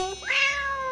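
A single cat meows once, a clear, close, fairly loud rising-then-falling cry lasting under a second, heard alone.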